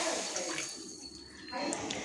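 About half a cup of water is poured into a wide pan sitting on a stove, a soft splashing rush that swells, dips and rises again for a couple of seconds.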